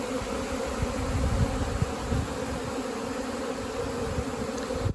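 A native honeybee colony buzzing steadily at its hive in Mallorca, a dense continuous hum of many bees close by with no voices.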